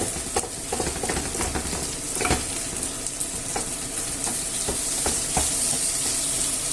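Chicken and chorizo paella stirred in a hot pan: a steady, close frying sizzle runs throughout, broken by soft scraping and knocking strokes of a utensil.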